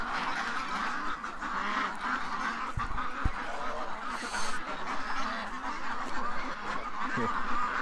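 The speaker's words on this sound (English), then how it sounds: "Ah, little duck." Goose-like honks and duck quacks from a small flock shut in a night pen, several calls overlapping at moderate distance over steady background noise, with no talking.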